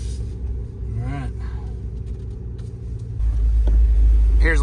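A cammed 2023 Cadillac Escalade V idles with a deep, steady engine rumble close by, which swells louder and heavier partway through as if the revs rise, with brief voices talking over it.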